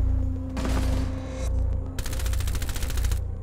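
Rapid gunfire bursts from the tactical shooter Rainbow Six Siege, with loud overlapping automatic volleys in two main waves separated by a brief lull, close and dense.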